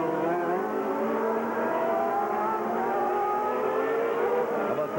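Ayrton Senna's Formula 1 car at the 1991 Australian Grand Prix screams past with a loud, sustained high-revving engine note that rises and shifts in pitch throughout.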